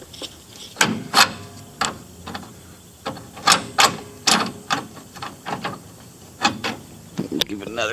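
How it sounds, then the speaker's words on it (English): Ratchet strap being cranked tight to pull a budget-beater Chevelle's part into place, giving a series of sharp clicking ratchet bursts at an irregular rhythm, close and fairly loud, with some scraping between pulls. "We're just going to hook up a ratchet strap and hopefully we can get it pulled into place."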